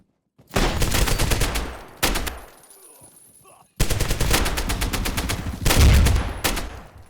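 Rapid bursts of automatic gunfire crackle in two long volleys separated by a short pause, loud and close, in the video game Zero Hour.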